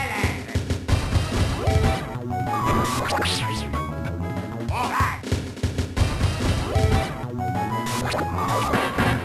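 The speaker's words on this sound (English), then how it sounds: "Too soon, he smashed his head." A WarioWare, Inc.: Mega Microgame$! character smashing his head, heard as repeated loud crashing whacks over busy game music and effects.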